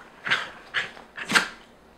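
A puppy barks three times, close and fairly loud, with short sharp yips spaced about half a second apart and quiet between them.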